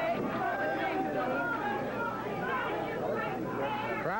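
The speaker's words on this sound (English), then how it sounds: "Crowd waiting for Schultz to come back." Arena crowd at a 1982 Stampede Wrestling match between Nick Bockwinkel and David Schultz, a steady murmur of chatter and babble with scattered shouts, continuous and moderately loud.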